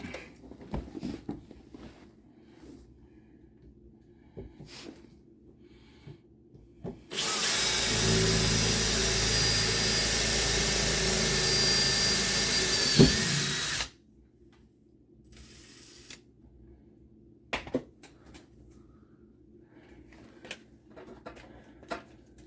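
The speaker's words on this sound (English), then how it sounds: "We're gonna pre-drill for number 2," A power drill whirs steadily for several seconds, loud and close, pre-drilling a hole while installing hitch wiring on a 2017 Subaru, with quiet clicks and handling noises before and after.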